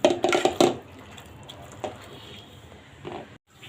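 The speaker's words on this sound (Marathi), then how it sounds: "आता हे स्मॅशरने थोडे स्मॅश करून घेऊ आपण" Cooked carrots are mashed in a pot with a masher for carrot halwa, a quick run of wet metallic clanks and squishes up front, then a few softer thuds, close and clear.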